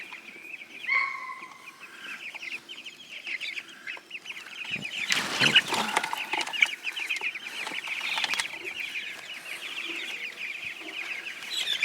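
Chickens cluck steadily throughout, close by, with a burst of louder squawking and rustling partway through.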